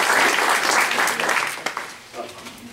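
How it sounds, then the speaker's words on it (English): Meeting attendees at a convention gathering clap in a round of applause that starts full and busy, then thins out and fades into a few scattered claps. "let's give Mary Carr a round of applause, folks."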